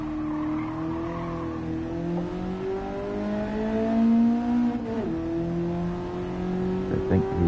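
A race car in a racing video game laps the track, its engine tone rising and falling steadily through gear changes, with a brief tyre squeal near the end and no voices.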